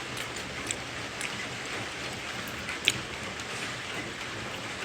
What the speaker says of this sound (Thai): ขอนแก่นฝนตกทั้งวันเลยวันนี้